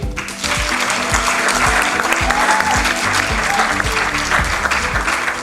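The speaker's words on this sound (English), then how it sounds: "A big applause for the team." Applause for a project team that worked for fifteen weeks, a full, steady ovation from an audience lasting throughout, loud and dense with a low rumble beneath the clapping.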